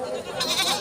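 A single goat at a busy Bangladeshi livestock market gives a short, nasal bleat close by over a noisy crowd background, lasting well under a second.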